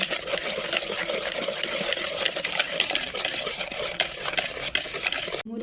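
Puff cream filling mixture is whisked briskly in a bowl, a dense continuous rattling and scraping that stays close and steady throughout.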